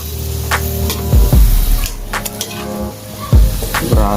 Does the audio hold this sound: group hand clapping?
no